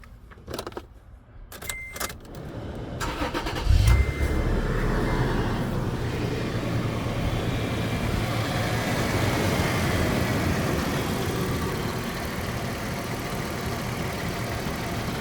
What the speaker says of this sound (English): I start it up so you can watch it run.